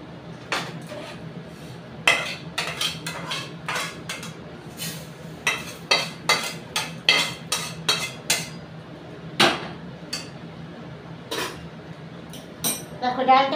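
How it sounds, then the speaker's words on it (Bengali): Fried moong dal being emptied from a pan onto a metal plate in a home kitchen, heard as a busy run of sharp metallic clinks and scrapes, some close and loud, with faint room noise between the strikes. "তা ডালটা আমি একটা পাত্রের মধ্যে থালার মধ্যে ঢেলে নিচ্ছি।"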